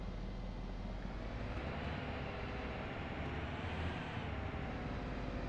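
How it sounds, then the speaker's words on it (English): Distant helicopter rotor drone in the Construction Simulator 2 video game, a steady low rumbling wash that holds for several seconds with no talk over it. "Is that a helicopter? Sounds like a helicopter somewhere."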